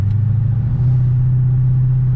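A supercharged Infiniti Q45 V8 fitted with Nissan Titan headers idles and rumbles at low throttle, a deep steady drone close by with a slight rise partway through.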